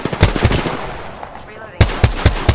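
Loud, close bursts of automatic gunfire in the Apex Legends video game, a quick rhythmic string of shots, a short pause, then another rapid volley.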